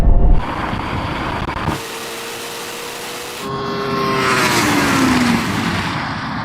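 A Porsche Taycan Turbo GT with a two-speed gearbox accelerates hard in a drag race, a rising electric whine with a noticeable shift step over wind and road roar, no voices present.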